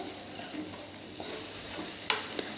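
A potato and onion curry gets stirred in a pan over a soft, steady sizzle, with a few sharp metallic scrapes of the spoon toward the end.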